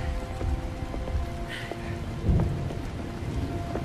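A spring rain shower hissing steadily on surfaces with a low rumble of thunder swelling midway, dense and close throughout with no talk.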